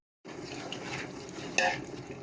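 A spice masala is stirred and fried in a pan, with soft scraping and low sizzle and one brighter metallic clink partway through.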